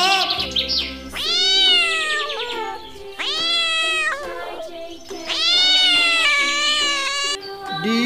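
A cat meows repeatedly in drawn-out, rising and falling calls, loud and close, with a few short gaps between cries and no talking.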